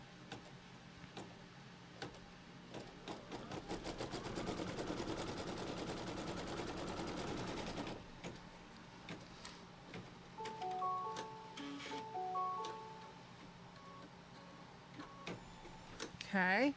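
Embroidery machine stitching a tack-down on fabric, a fast run of close mechanical ticking for several seconds, then quieter intermittent whirring and clicks with brief electronic beeps and a person talking.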